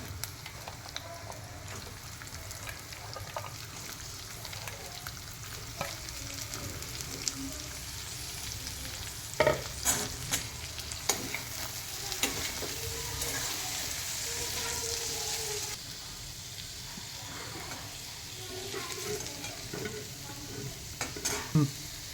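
A long, steady crackling sizzle of washed broad beans frying in hot tempering oil, with occasional sharp clinks and scrapes from stirring.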